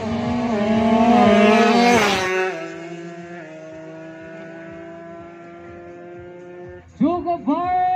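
Kawasaki Ninja drag bikes race at a 2019 national drag bike championship in Gowa: a loud engine roars and climbs in pitch, then settles into a steady, fading drone, and a short burst of revving breaks in near the end.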